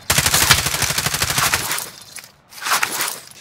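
Rapid automatic gunfire in a video game, a dense stream of sharp cracking shots for about a second and a half, then a pause and a shorter burst, loud and close.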